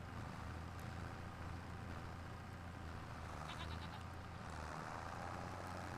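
Sheep bleating on a farm, several thin bleats rising out of a steady low rumble of machinery or wind, fairly distant and faint against the constant background.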